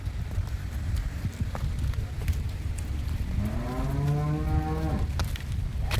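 A Holstein-Friesian (HF) dairy cow on a farm gives one long, loud, close moo that rises and falls, set against steady farm background noise and some clatter.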